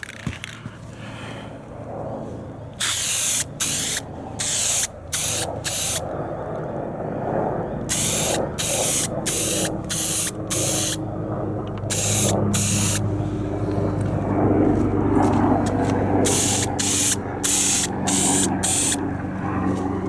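Aerosol can sprayed in repeated bursts of loud hiss, short and long blasts in a workshop setting, close to the microphone, with steady background noise between bursts.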